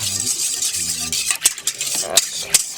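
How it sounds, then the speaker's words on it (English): A whisk stirs a yeast mixture for homemade pretzel dough in a bowl, quick close clinks and scrapes against the bowl with brief sharp taps, with a faint tonal hum at the start. "I use my whisk and I whisk it around a little"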